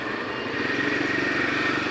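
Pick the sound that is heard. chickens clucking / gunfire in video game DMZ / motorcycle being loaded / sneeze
motorcycle being loaded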